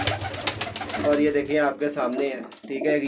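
Pigeons in a loft coo softly and repeatedly at close range, their low throaty calls woven under a voice talking over them.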